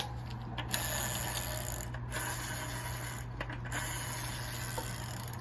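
A kids' 20-inch bicycle's freewheeling hub spins with a rapid ratcheting click and a faint scraping rub, close and quiet, with a low steady hum beneath.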